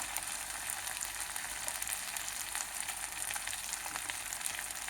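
Taro (arvi) pieces with softened onions fry in a pan, giving a quiet, steady sizzle with a soft crackling hiss throughout and no talking.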